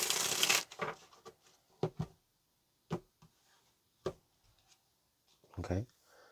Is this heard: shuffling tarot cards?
yes